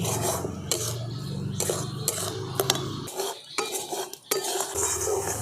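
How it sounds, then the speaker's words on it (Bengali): Grated coconut and sugar are mixed together in a bowl, a close scraping and rubbing of a spoon against the vessel in uneven strokes with a few sharp metallic clinks, no voices. "চিনিটা দিয়ে আবার খুব ভালো করে আমি এই সব কিছু একসঙ্গে মিশিয়ে নিচ্ছি।"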